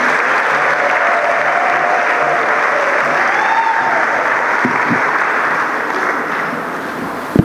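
A church congregation applauds steadily during a Fifth Sunday of Easter Mass, a dense even patter of many hands held at a constant level, with faint voices underneath and a sharp clap near the end.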